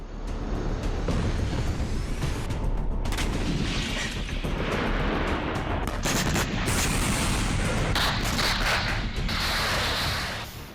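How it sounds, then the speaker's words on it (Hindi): A rapid series of explosions from a bomb strike booms and crackles continuously, heavy blasts overlapping one another with loud rumbling throughout, amid fire and black smoke. "काले धुएं के साथ सिलसिलेवार धमाके।"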